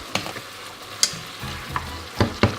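Goat meat searing in a covered pan gives a steady low sizzle, broken by several sharp clacks and scrapes of stirring at close range, with no talking.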